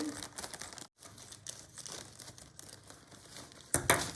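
Scissors cutting a plastic bag before heat sealing with a Kiwi KS 6905 bag sealer, giving steady close crinkling and rustling with a short pause, then a sharper snip-like burst near the end.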